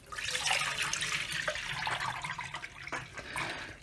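Water poured from a container into the steel tank of a Lyman Turbo Sonic ultrasonic cleaner, a steady splashing gush lasting several seconds, close and fairly loud with no talking.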